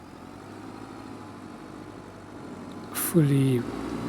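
A diesel tractor engine idles with a low, steady rumble in Farming Simulator 25, a voice briefly speaking over it near the end.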